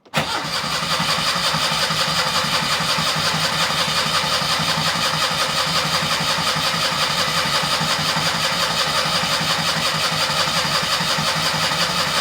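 A Citroën 2CV engine, just upgraded with a fresh oil filter, cranks loudly and continuously for about twelve seconds: a close, steady, rapid mechanical churning with no voices.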